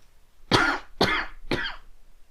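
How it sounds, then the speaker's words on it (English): Three evenly spaced, raspy coughs in a row, close and fairly loud, with quiet gaps between them. "that sounds like you have a bad cough"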